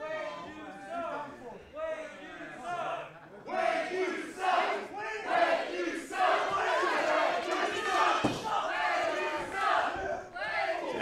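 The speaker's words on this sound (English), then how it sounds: "he's hearing the chorus of boos, the chants from the crowd here at the TWE Arena" Crowd at the TWE Arena during a professional wrestling match, a loud sustained roar of voices booing and chanting that swells and stays dense throughout, with shouted voices mixed in.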